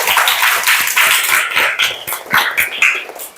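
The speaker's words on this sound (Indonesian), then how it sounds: "Tepuk tangan untuk kita semua." A class of fifth-grade children at an elementary school claps together, a burst of quick, uneven hand claps close by that keeps going for several seconds with no talking over it.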